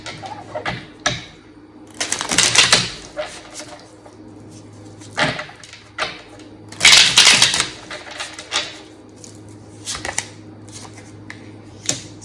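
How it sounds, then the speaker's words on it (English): Tarot cards are shuffled hard in several loud riffling bursts, separated by short pauses with softer handling clicks. "Good hard shuffle."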